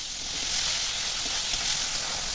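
Chopped tomato dropped into oil with frying aubergine pieces, giving a loud, steady, bright sizzle and hiss close by, with no talk.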